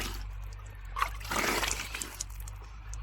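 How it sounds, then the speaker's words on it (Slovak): Ice-cold water trickles and splashes on a scorching hot day, a soft steady run that swells into a brief louder splash in the middle before settling back to a gentle trickle. "Troška sa aspoň osviežim s touto ľadovou vodou."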